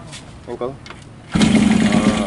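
A Yamaha RX King motorcycle's kick-starter is kicked and the engine catches, turning into a loud close rumble after short bursts of voices and handling noise.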